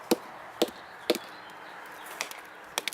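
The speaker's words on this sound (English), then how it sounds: "I've already taken a sounding mallet." A sounding mallet knocks against the trunk of a veteran chinquapin oak, four or five sharp, woody taps spaced about half a second apart, clear and close against faint outdoor background hiss.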